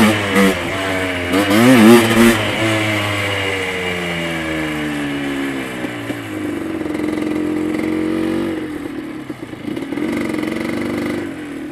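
A motorcycle engine revs loud and close, climbing and falling in pitch as it struggles and fails to shift past second gear, then settles into a lower uneven drone with a few more blips.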